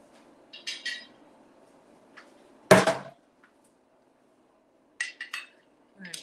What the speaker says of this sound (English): Let me get a plate.